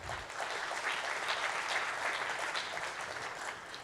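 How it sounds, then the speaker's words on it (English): A conference audience gives an honorable-mention award a round of applause, steady, even clapping throughout, moderately quiet and somewhat distant. "So a big round of applause there."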